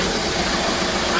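Diesel engine idling steadily after a transmission cooler line install, a dense continuous low rumble with even broadband mechanical noise, close and fairly loud throughout.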